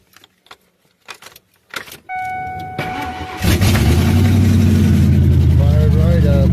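A truck engine cranks and fires up after a weak battery was charged, catching abruptly and settling into a loud, steady run close by, preceded by door and key clatter, with people talking nearby.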